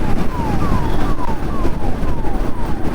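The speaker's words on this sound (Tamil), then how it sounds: "பின்னாடி ஆம்புலன்ஸ் வேறு." An ambulance or police siren wails in repeated rising-and-falling sweeps over heavy road traffic rumble on the highway from Chennai toward Pondicherry near Vandalur, sounding moderately close and partly masked by engine noise.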